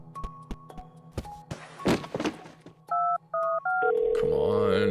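A phone call being placed: a few thunks and taps, a short run of dialing tones, then a steady ringing tone at the end, fairly loud and close with a voice briefly present.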